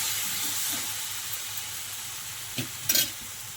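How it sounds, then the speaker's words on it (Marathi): Gram flour mixture with turmeric roasting in a pan, giving a steady close hiss and sizzle with a few scraping spoon strokes near the end. "सगळं वा भाजलेलं आहे आता ह्याच्यामध्ये टाकायचं हळद करा म्हणून"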